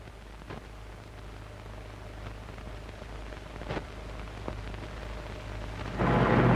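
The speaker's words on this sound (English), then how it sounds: "the deep blue of the sky is blotted out by rain clouds and water races down the gutters" Heavy rain falls on a street in Kalgoorlie in dry Western Australia, a steady wash of rainfall with a few sharp cracks and a swelling rumble near the end, no voices.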